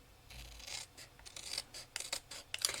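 Scissors trimming excess off a paper snow globe card, a quiet close-up series of irregular snipping and rustling cuts with soft paper scrapes, no talking.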